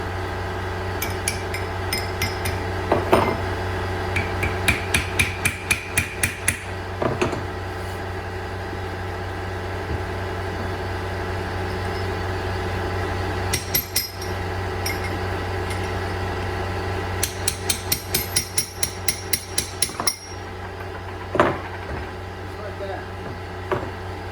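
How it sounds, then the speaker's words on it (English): Hammer blows strike a chisel to crack a differential bearing race on a 2007 Ford Mustang, coming in several quick clusters of sharp metallic taps over a steady background hum. "Groove in it, smack it with a chisel, and it cracks it halfway or whatever."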